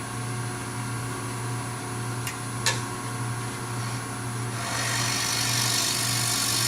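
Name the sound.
turning a wooden box on a lathe with a bowl gouge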